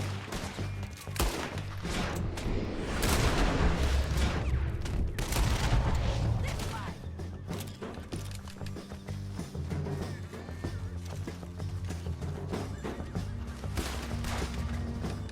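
Gunfire in the video game Red Dead Redemption 2: dense volleys of loud overlapping shots and booms, heaviest in the first half, with continued scattered shots and the background game score throughout.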